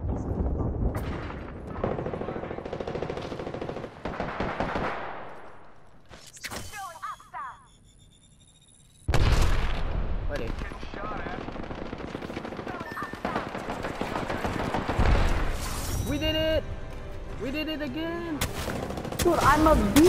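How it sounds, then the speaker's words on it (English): Rapid gunfire in the battle royale shooter Apex Legends, with repeated bursts of automatic fire and explosions throughout, loud and dense, briefly dropping out near the middle before resuming, with people talking over it. "Shots fired and they're hitting me."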